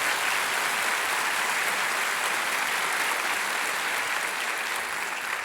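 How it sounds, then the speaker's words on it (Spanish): A congregation at a church service claps for God in steady, dense applause that fills the room without a break and holds at an even level throughout. "Dale ese fuerte aplauso a Dios."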